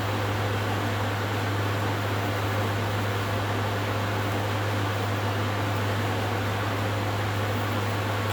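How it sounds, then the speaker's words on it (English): An indoor air conditioner running: a steady, close, broadband whoosh with a constant low hum underneath, unchanging throughout, with no talking. "Do you guys hear the air conditioner or no?"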